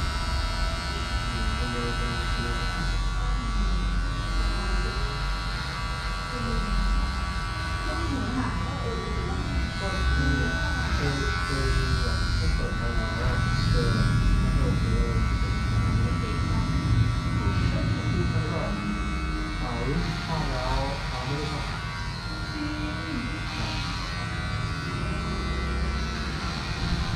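A barber's electric razor buzzes steadily during a shave in a barbershop in Pattaya, a close continuous hum running beneath someone talking throughout.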